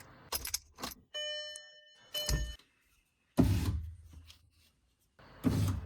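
Car keys jangle and the ignition of a car is switched on, bringing a short electronic chime, then more handling clatter and thunks nearby with silent gaps.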